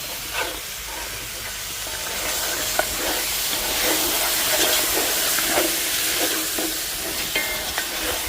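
Goat stew seasoned with garlic, onion, ginger and fresh herbs simmers over a fire, giving a steady sizzling hiss with soft bubbling and faint clinks throughout, close and continuous with no talk.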